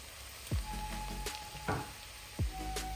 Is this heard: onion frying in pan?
yes